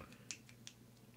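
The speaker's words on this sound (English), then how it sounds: "Why is she snapping?" Two or three crisp finger snaps ring out, spaced apart, over a low room hum, as a woman snaps in appreciation during a podcast conversation, like at a poetry reading.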